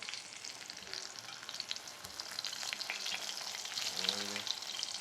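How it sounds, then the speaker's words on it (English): Breadfruit, soaked in salt water, frying in a pot in a home kitchen: a steady crackling sizzle with bright spitting pops, a low stirring scrape near the end, no talk. "this is us frying the breadfruit"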